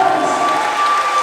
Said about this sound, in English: And you can hear it from the crowd.